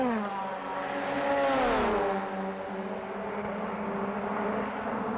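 Touring cars from the 2000 DTM season, a Mercedes and an Audi, battle at Hockenheim with loud, continuous engine howl, the pitch sweeping down and back up as the cars lift and accelerate, steady and close throughout.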